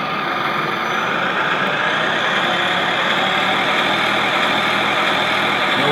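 Sound module on an RC model, run from a Futaba radio and set to full throttle, gives a loud, steady, dense engine roar like a large motor revving. It holds constant for several seconds with no pauses and no talking.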